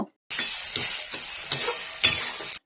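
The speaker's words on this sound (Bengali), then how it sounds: "এখন এটাকে আমি ভালোভাবে মিক্স করে নেড়ে নেব" Eggplant seasoned with salt and turmeric is stirred and tossed in a hot pan, giving a steady close sizzle broken by a few sharper scrapes and clinks of the spatula against the pan, with no talking.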